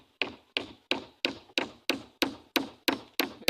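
Wooden parapet form-work being knocked into alignment with regular, evenly spaced sharp taps, about ten solid blows at a steady rhythm, close and clear with no talking.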